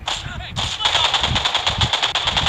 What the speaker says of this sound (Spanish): Pasos y tiros.